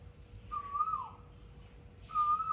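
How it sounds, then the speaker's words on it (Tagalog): A bird calls at morning in Thailand, two clear whistled notes about a second apart, sitting above a quiet low hum of outdoor background. "Naririnig nyo ba yung ibon?"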